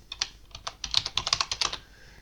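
Computer keyboard typing a name for a diagram, a quick burst of about fifteen light key clicks, close and crisp, slightly irregular in pace, with no voices.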